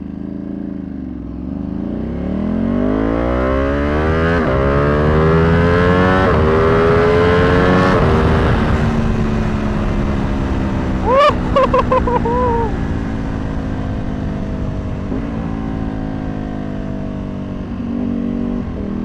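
A tuned Ducati Panigale V2 sport bike accelerates hard on the street, its engine note climbing through gears in loud rising sweeps with quick shifts and crackling blips, close-miked throughout.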